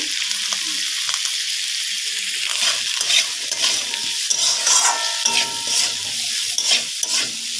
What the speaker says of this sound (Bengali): একটু ভেজে নেবো চার থেকে পাঁচ মিনিটের মতো গ্যাসের আঁচটা কমিয়ে ভেজে নেবো